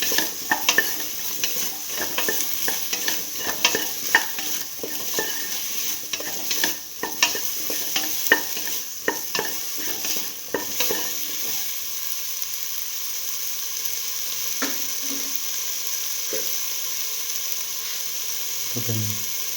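Okra, potato and rice fry in a pan while salt is stirred in, a continuous sizzling hiss broken by repeated spoon scrapes and clinks against the pot, quieter toward the end.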